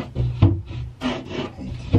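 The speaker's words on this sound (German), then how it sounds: "bloß die Tür schleift noch ein bisschen." A cabinet or washing-machine-area door scrapes and rubs as it is pushed shut, giving several short woody rasping strokes up close, one after another with brief pauses between them.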